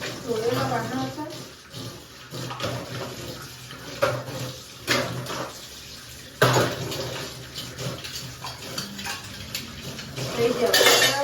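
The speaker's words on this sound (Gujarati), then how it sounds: "ધોયેલા વાસણ હતા." Utensils being washed at a sink after a home meal, plates and pots clattering in sharp repeated knocks over running tap water, with a voice talking intermittently.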